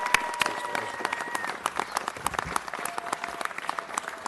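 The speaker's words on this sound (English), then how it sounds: "a round of applause for Rick Kendall" Audience applause for Rick Kendall at a city council meeting, a room full of people clapping in a dense, steady patter with sharp individual claps standing out, continuing throughout.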